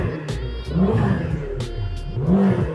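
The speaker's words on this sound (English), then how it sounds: "We go into active mode to open the flaps." McLaren GT sports car exhaust with the valves opened in active mode, a loud close-up engine note that swells twice in short revving rises with a steady low rumble between, no pops or crackles.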